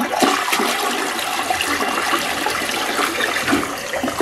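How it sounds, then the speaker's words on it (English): A toilet flushes loudly up close after a slow-drain fix with hot water and dish soap, water rushing and swirling steadily through the bowl for several seconds. "Go ahead and give one more flush out of this, make sure it still works."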